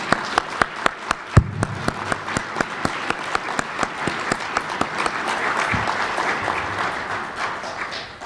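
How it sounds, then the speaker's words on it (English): An audience at a government infrastructure authority event applauds, the clapping starting as sharp distinct claps and swelling into a steady, fairly close round of applause that carries on without talk. "Lloyd, we just want to give you a round of applause for the job you've done"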